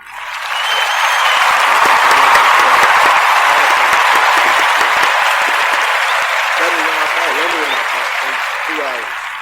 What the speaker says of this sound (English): I'm gonna give you one last round of applause.